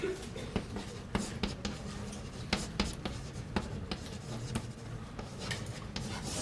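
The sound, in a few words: writing on the board during a calculus lecture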